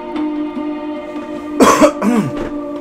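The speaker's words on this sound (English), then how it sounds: "Excuse me, if I'm ever coughing at all" A person coughs a couple of times in quick succession, close and fairly loud, after a stretch of low background hum.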